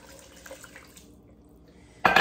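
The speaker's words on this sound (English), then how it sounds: "Then I'm gonna add in 2 cups water." Two cups of water are poured into a pot of soup, a short loud splashing gush arriving abruptly at the very end after quiet kitchen background.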